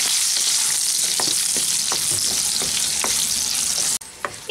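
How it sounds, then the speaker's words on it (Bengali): Diced medium potato frying in hot oil in a pan, a loud continuous sizzle with a few spatula stirs and scrapes, close up, no voices. "আলুগুলোকে হালকা বাদামি করে ভেজে নিচ্ছি"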